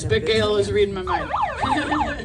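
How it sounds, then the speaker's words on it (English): At a protest rally in Rochester, Minnesota, a bullhorn siren cuts in with fast, warbling up-and-down sweeps after someone speaks over the crowd noise. "If you hear a siren from the bullhorn"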